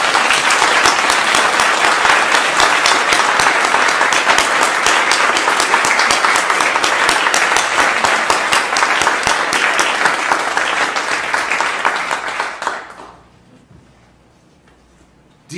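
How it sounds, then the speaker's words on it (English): A large audience at a PEN centenary celebration claps loudly and continuously, dense applause holding steady for about thirteen seconds before fading abruptly into quiet. "let's clap a little louder as if that person might be in the room"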